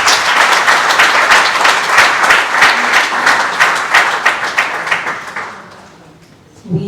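A launch-event audience breaks into sustained applause, dense clapping that holds strong for about five seconds before thinning out and fading, with a brief bump of sound at the very end.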